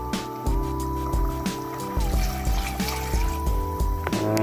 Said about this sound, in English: I put 2 glasses of water now